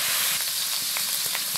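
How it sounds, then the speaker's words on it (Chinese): Minced meat with ginger and garlic stir-fried in a wok gives a continuous loud hiss of frying oil, broken by soft scraping strokes of the spatula. "把肉末炒一下，姜末， 炒蒜，炒变色"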